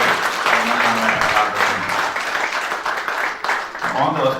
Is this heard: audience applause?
yes